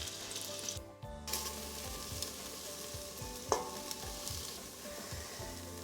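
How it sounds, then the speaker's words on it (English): Beef browning in the base of a Calphalon pressure cooker used as an open pan, giving a continuous soft sizzle and frying hiss with occasional stirring scrapes and one brief louder clink, no talking. "My beef is nicely browned"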